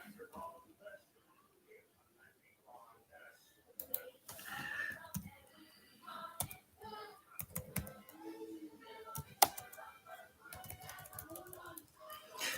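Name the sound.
typing on a computer keyboard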